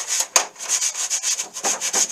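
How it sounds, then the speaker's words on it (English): Hand sanding of a metal Park tool box around its lock hardware gives steady back-and-forth rasping strokes, close and fairly loud, with one sharper scrape near the start and no talking. "Try to sand real good around the edges of the hardware."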